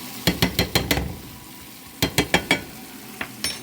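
Mushrooms cooking in a pan, with two quick runs of rhythmic scraping strokes over a soft sizzle, close and fairly loud.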